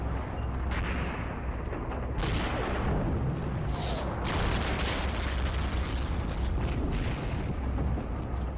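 Gunfire and artillery in the Graviteam: Fateful Strike tank combat video game, a continuous dense roar of distant explosions and booms with occasional sharper cracks, with no pause.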